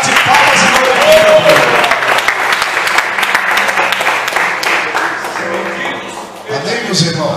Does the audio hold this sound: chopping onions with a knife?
no